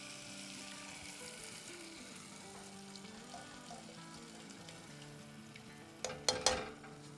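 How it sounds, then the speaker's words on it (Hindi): Strained tomato juice from ground tomatoes poured into a hot pan, giving a steady quiet sizzle that swells into a few louder splashing bursts near the end. "और इसमें हम डाल देंगे अब टोमेटो का रस"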